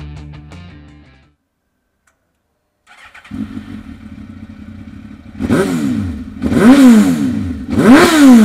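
A 2002 Suzuki GSX-R1000 fitted with a Micron slip-on muffler and a Power Commander starts after a brief quiet, settling into a steady idle before three loud, close throttle blips rise and fall sharply.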